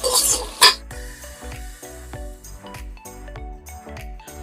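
Onions for chicken pulao fry over a high flame, with a spoon scraping and clinking against the pan in irregular strokes over a soft sizzle and light background music.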